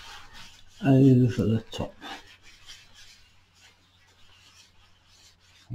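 Acrylic paint is rubbed onto a painting surface in a short, close scratchy rub lasting under a second, followed by faint brushing scrapes, with a voice talking nearby.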